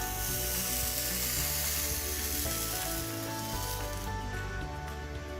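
Hair styling tool drying a section of hair, a steady loud hissing, sizzling whir with a mechanical ratcheting edge, constant throughout and easing slightly toward the end, with no talk.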